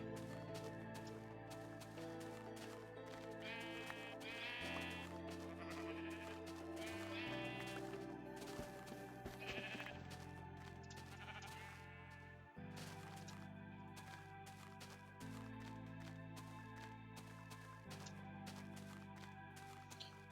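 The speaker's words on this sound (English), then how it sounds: "Sheeps." Sheep bleat in a video game over steady game music, with several short, nasal bleats scattered through a long stretch and no talking.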